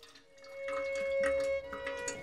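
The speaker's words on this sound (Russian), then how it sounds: "С годами, пока мы ждали, труба стала дырявой, и вода почти не доходила." Water dripping and trickling from a leaky pipe, a soft irregular patter of drips over a faint steady hum, with scattered splashes at close range.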